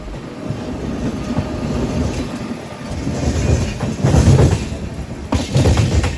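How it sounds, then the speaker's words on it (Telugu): Vivek Express passenger train rolling into Salem Junction, a steady rumble of wheels on rails with rising clatter and louder bursts toward the end, heard from on board with no talk. "మన బండి సేలం జంక్షన్కి ఇలా వచ్చింది."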